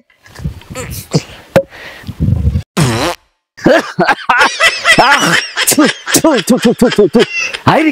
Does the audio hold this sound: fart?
yes